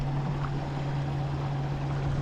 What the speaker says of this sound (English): One boat going, another one coming right at us.